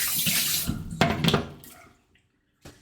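Liquid poured into a cooking pot during a roast lamb and polenta dish, a loud splashing pour that breaks into a few sloshing bursts, then goes quiet before a brief final splash.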